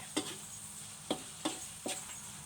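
Thai fried rice being stir-fried from freshly cooked, still-moist rice already mixed with egg. Four sharp scraping clacks of a spatula in the pan at uneven intervals sit over a low, steady background sizzle, with no talk.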